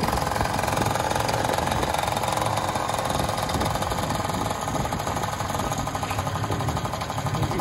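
A motorcycle engine idles steadily after being started, its broken exhaust awaiting a new pipe, giving a continuous close, loud, rough mechanical chatter with a knocking pulse for the whole stretch.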